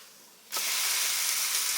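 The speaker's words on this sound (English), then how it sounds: "I'm thinking that it's about time to flip this sandwich" A patty melt sandwich made with leftover roast hits a hot pan as it is flipped, setting off a sudden loud, steady sizzle that swells after a quiet start and holds at full strength.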